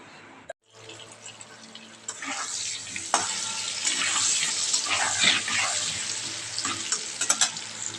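Potatoes frying in a pan, a continuous bright sizzle that swells after a quiet start, with occasional stirring scrapes, heard up close with no talking.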